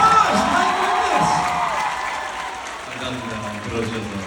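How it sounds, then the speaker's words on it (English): Audience applause and light cheering fill the hall at a Manila fanmeeting for Lee Jehoon, loudest at the start and then easing into a steady clapping wash. "Round of applause."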